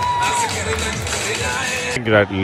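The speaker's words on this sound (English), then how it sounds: "Crowd gets excited." A cricket stadium crowd at a Qatar T10 League match roars and cheers after a six lands in the stands, a broad excited swell heard beneath a commentator's voice, which cuts off near the end.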